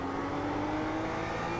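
BMW M2 race car in iRacing accelerating out of a corner at Circuit de Ledenon, a steady loud engine note with a rising harmonic drone, close and continuous with no voices.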